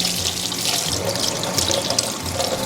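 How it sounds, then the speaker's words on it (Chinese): Tap water runs steadily into a sink as lamb ribs that were soaked to draw out blood are rinsed clean, a close, even splashing gush with no talk. "我们简单给它冲洗干净。"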